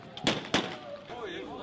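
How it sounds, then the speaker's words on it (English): Two sharp gunshot cracks ring out close together from an indiscriminate barrage of gunfire in Libya, followed by a faint whistling tone over low background noise. "An indiscriminate barrage of gunfire opens up."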